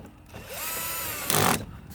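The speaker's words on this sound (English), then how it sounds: "it's a lot easier, a lot faster and easier to do with a drill" Power drill on a low setting backing out backup light screws on a 1998 Oldsmobile Aurora, one short whirring run of about a second that rises in pitch near the end, close and alone.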